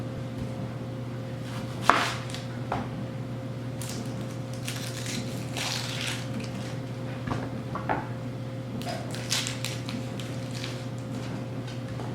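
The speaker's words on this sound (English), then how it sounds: "I have 4 onions that I'll slice thin." Onions being sliced thin on a cutting board for French onion potato soup, giving soft, irregular knife taps and cuts with a steady low hum behind them and no talking.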